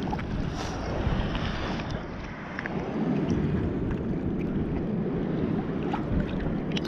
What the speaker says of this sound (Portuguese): Então eu vou remar pra cá.